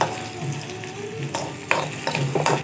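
Onions and tomatoes sizzle steadily in a hot pan for a curry-leaf gravy, with a few sharp scraping clanks of a utensil stirring toward the end.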